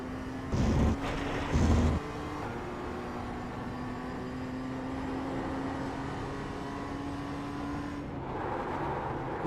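In iRacing, a race car's engine hums at a steady pitch through Williams corner, with a couple of short, sharp bursts early on as it brakes and shifts, all fairly quiet.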